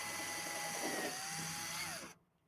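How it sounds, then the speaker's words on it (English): A power drill whines steadily while boring cleco holes through a radiator fan ring and shroud, its pitch sliding slightly before it spins down and stops. "Drill 2 cleco holes on each side to secure the ring with shroud"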